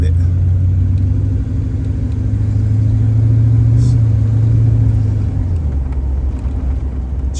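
Steady, loud engine rumble of a 1968 Chevrolet Camaro heard from inside while driving. The note swells slightly midway and then eases, with no speech over it.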